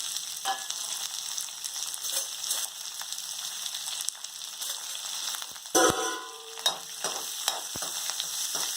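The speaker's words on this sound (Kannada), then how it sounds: "ಚೆನ್ನಾಗಿ ಹುರ್ಕೋತಾ ಇದ್ದೀನಿ" Onions and green chillies fry in a pan for tomato rice, a steady crackling sizzle close by, broken by a few clattering stirs and scrapes of a spoon against the pan partway through.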